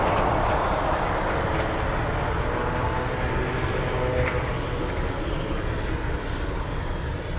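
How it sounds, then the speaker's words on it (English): A Delta Airlines 757 airliner flying in, a broad, steady roar of jet engines that stays loud and continuous throughout with no talking. "Okay, Delta Airlines 757. Let me show you this one flying in from,"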